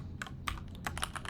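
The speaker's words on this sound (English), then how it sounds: "just getting used to the keyboard" Rapid typing on a computer keyboard, a steady stream of close, crisp key clicks with a few louder taps, heard alone.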